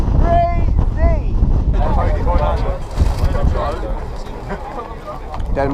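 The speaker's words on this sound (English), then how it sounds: "Right now a little bit of headwind." Headwind buffets the microphone of a cyclist warming up before a road race in Holland, a loud low rumbling roar that runs throughout while someone talks over it.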